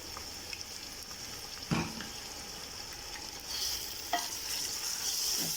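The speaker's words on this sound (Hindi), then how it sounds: "सारी चीज़ें मिक्स करने लगी हूँ जी मैं।" A spoon scrapes through eggplant and tomatoes in a pot, giving two distinct clanks against a low, steady sizzle. The later hiss grows slightly louder, and no one speaks.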